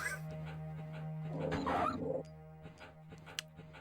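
Dogs growling and snarling in Resident Evil 1 on the Sega Saturn, a burst of harsh canine noise over a steady low game hum, followed by softer scattered yips and thuds.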